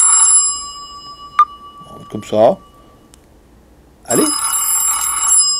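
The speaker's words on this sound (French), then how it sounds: "Voilà, sonnerie du téléphone" An Umi Hammer mobile phone plays its ringtone, a bright electronic ring heard loud and close at the start and again at the end. A short spoken word and some handling clicks fall between the rings.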